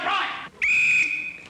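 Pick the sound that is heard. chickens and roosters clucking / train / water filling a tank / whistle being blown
whistle being blown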